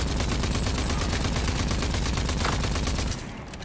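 An auto rifle in Rage 2 fires a steady, rapid stream of close, loud shots for about three seconds, then stops abruptly, leaving quieter background noise.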